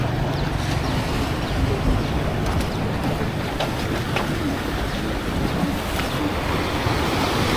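Waves wash against the shore near Đền Cờn temple in Nghệ An on a sunny day, a loud, continuous rushing surf with wind buffeting the microphone and brief spray-like bursts, no voices.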